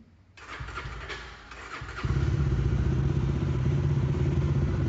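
A 2026 Jawa 42 Bobber's starter cranks briefly with the clutch held, then the engine catches and settles into a loud, steady, throbbing idle close by.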